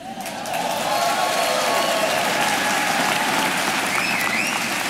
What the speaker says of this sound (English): How did you know which rhythm to clap?